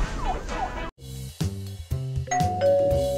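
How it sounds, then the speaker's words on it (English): A doorbell chimes after a brief musical sting, with a few ringing tones followed by a sustained two-note ding-dong, loud and close, no voices. "Oh, it's the doorbell."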